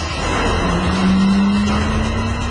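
An automatic convertible car accelerates hard from a standing start in a drag race, a single loud engine note rising steadily in pitch as it pulls away.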